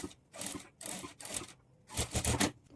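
A sewing machine top-stitches along the folded lining of a blouse, running in four short bursts separated by brief pauses, close and moderately loud with no talking.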